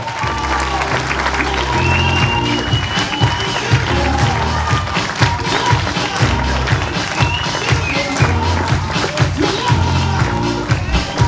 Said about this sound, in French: Je vous demande d'applaudir très très fort Noémie Savario